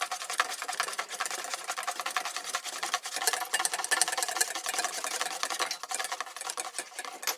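Butter melting into hollandaise sauce as it is stirred continuously, a fast steady whirring scrape of a utensil against the pan or bowl, close and even throughout.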